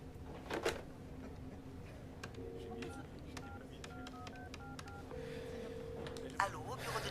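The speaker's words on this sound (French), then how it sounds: "Il faut que j'appelle John Price" Telephone number dialed by touch-tone, a series of short DTMF beeps of varying pitch over room noise, with some quiet talk in the background.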